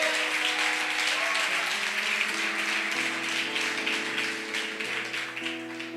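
A church congregation applauds during a Portuguese worship service, sustained dense clapping over held organ or keyboard chords that shift pitch, gradually thinning toward the end.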